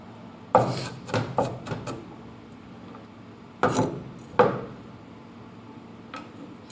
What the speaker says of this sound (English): so I finished chopping the onions.